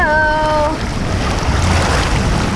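Water splashes and rushes from a waterfall feature at a resort swimming pool, a loud, broad, continuous wash that begins after a brief tonal sound and continues to the end, with no talking.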